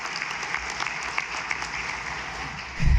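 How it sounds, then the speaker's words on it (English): Steady audience applause at a university commencement ceremony, a continuous wash of many hands clapping at moderate distance for about three seconds, with a low thump near the end. "another round of applause for the awesome representation"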